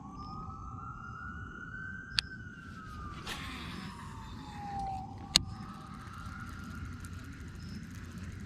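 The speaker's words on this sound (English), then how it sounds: "Well, we got the siren." A distant siren calling boats off Madison County Lake wails in long, slow rising and falling sweeps across open water, with a couple of sharp clicks nearby and no voices.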